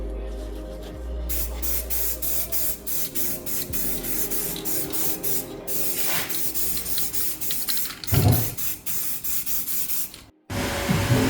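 Spray gun applying a second coat of paint to an old road rally car's panel, close hissing bursts starting and stopping in a series of passes.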